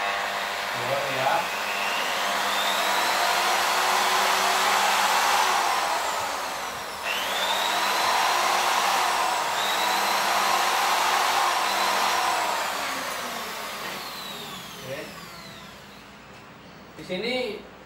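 An electric drill whirs steadily at close range, its pitch sweeping up and down as it speeds and slows, stopping briefly midway before running again.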